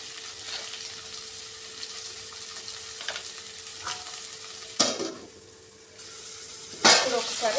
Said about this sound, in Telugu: ఇప్పుడు ఒకసారి కలుపుకోవాలండి.